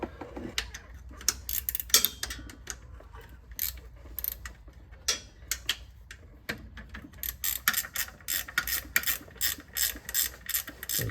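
A hand ratchet works loose the 12 mm bolts of a transfer case skid plate under a Toyota Tundra 4WD, rapid metallic clicking in repeated bursts, close and clear, with a few clanks between strokes.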